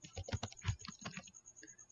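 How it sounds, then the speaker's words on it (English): Keystrokes on a computer keyboard as a command is entered in Windows, a quick irregular run of close, moderately loud clicks with short pauses between bursts. "Just type in rmdir, then the name of the folder"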